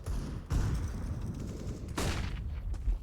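Gunfire in a CS:GO pro match on Dust2, with loud sharp shot bursts at about half a second and two seconds over constant game ambience and rumble.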